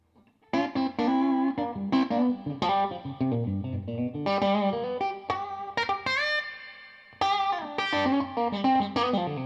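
An electric guitar plays heavily distorted chords and single notes drenched in reverb set at about three o'clock, loud and alone, with sustained notes ringing out between strums.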